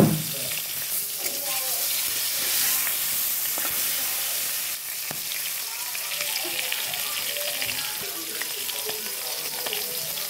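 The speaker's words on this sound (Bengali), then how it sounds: "দেখুন চিংড়ি মাছ তো ভাজছে" Prawns in hot oil in a wok hiss and sizzle steadily up close, with a louder burst at the start and scattered soft stirring knocks under the frying.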